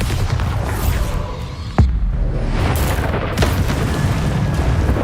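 A Bombardo explosion spell bursts in the video game Hogwarts Legacy, one sharp loud boom standing out near the middle against a dense, rumbling battle din, with a weaker thump later.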